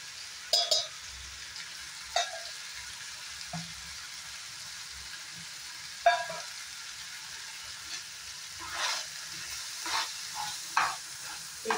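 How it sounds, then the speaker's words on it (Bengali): Chopped vegetables for a kadam masala sabji, seasoned with cumin powder, sizzle softly in a pan, with occasional spoon stirs and clinks of utensil against the pan breaking the quiet, steady frying. "এই সবজিটা সুন্দর করে ফ্রাই হয়ে যাক 1 মিনিটের মতো।"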